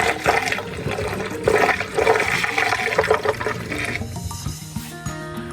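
An RV toilet in a Jayco Eagle 312BHOK camper flushes loudly up close, with a gurgling rush of water that swirls and drains, then tapers into trickling refill.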